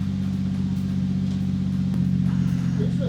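A Toyota Supra's 2JZ engine with a Precision turbo holds at its hard-cut rev limiter, giving a loud, close, steady drone with a slight rapid stutter.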